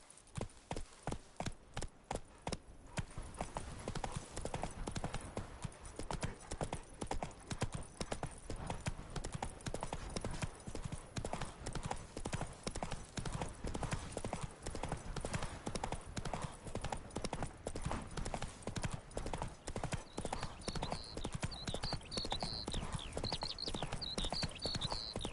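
Hoofbeats from Geralt's horse Roach in The Witcher 3 start as a slow, spaced clip-clop and then speed up into a dense, steady gallop that stays loud and near, with a light chirping sound entering near the end.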